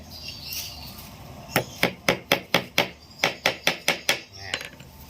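A hammer drives nails into a wooden board being made into a fish-scraping tool, about a dozen sharp, evenly spaced close blows in a steady rhythm after a short pause.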